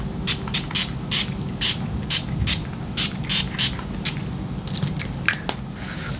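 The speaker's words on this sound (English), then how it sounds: "Now going on to the next step, which is setting spray." Urban Decay All Nighter setting spray in a small travel-size bottle is misted over a made-up face. About a dozen quick, hissing spritzes come close together in an uneven rhythm, with no voices.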